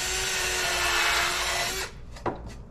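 A power drill whirs steadily, drilling a pilot hole through a wooden board for a couple of seconds, then stops, followed by a brief click of handling.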